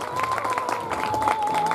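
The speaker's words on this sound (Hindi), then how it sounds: "थोड़ी सी तालियां हो जाए आप सभी के" Brief burst of audience clapping at a coaching centre event, a crowd applauding together in a short, steady, fairly dense patter with a faint tone running underneath.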